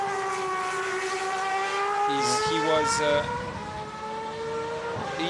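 A Superleague Formula race car on a qualifying lap at Vallelunga in 2008 holds a high, steady engine whine that shifts through gears, with a commentator talking over it.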